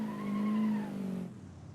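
A Gravil D-series RC truck skids with a short, tonal tire squeal that rises and then falls away over about a second, followed by quieter rolling noise.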